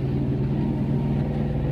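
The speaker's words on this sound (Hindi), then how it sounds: "भैया एकदम स्लो कर ले गाड़ी" A car on a rural road beside a river eases off, its mid-range engine giving a steady, close rumble with no break.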